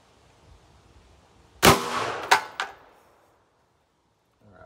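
A single loud suppressed gunshot from an 8.6 Blackout rifle firing a Maker 350 REX all-copper bullet into a gel block outdoors, with a sharp crack and quick echoing reports fading over a second, then quiet.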